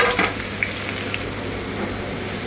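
Finely chopped ginger and lemongrass fry in a little oil in a pot, giving a steady, even sizzle with a few soft stirring clicks near the start.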